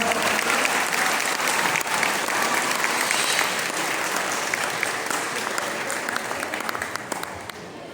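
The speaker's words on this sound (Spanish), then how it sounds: "Un fuerte aplauso para su dedicación, por favor." Loud, dense applause from an audience at a school shadow-theatre performance for the Day of the Dead in Catemaco, a continuous roar of many hands that holds steady and fades slightly toward the end.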